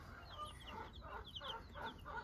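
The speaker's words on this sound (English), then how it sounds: "So I've got the brooding hen here that I snuck 5 chicks under last night" A brooding hen clucks softly over five newly adopted chicks, low repeated clucks coming in a loose rhythm, quiet and close with no voices.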